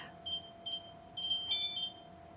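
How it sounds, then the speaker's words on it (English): Five-minute kitchen timer in a home kitchen while muffins bake, giving a short run of four or five high electronic beeps, fairly faint and alone. "that's my 5-minute timer"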